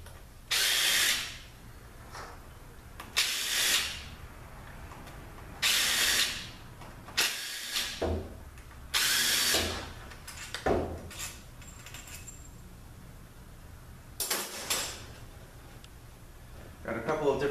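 Bolts being removed from a 6F35 transmission during teardown, with repeated bursts of power-tool whirring and ratcheting, close and loud, broken by gaps.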